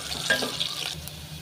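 Onion is added to oil with crackling mustard seeds as tempering for a fish sambar. A short, close sizzle sounds with the scrape of stirring and a few light pops.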